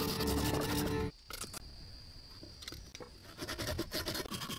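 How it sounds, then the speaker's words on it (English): Steady rasping strokes of a hand saw working through a large, thick timber, pausing briefly before the rhythmic scraping resumes, close and fairly loud. "The patient work of sawing large timbers continues."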